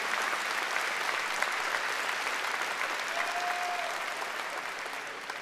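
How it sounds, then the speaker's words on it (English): Sustained applause from a large audience at a high school graduation ceremony fills the room, a dense, even wash of clapping that holds steady throughout. "please join me in a round of applause"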